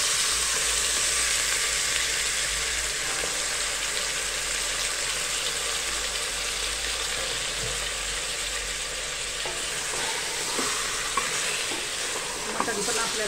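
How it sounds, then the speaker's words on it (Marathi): Marinated mutton goes into hot oil for a spicy Satara-style mutton thali, setting off a loud, steady sizzle and frying hiss close up, with a few light utensil knocks near the end. "ते मटण आपण टाकणार आहे आता तेलामध्ये"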